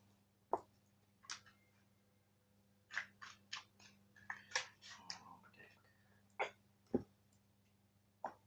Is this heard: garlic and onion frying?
no